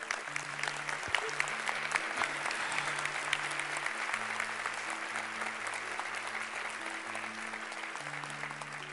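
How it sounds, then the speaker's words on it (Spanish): Sustained applause from a church congregation during a Christian service, dense and steady for the whole stretch, with a low organ or keyboard playing held tones beneath it. "yo les voy a pedir a ustedes un aplauso de alegría por esto que estamos viendo"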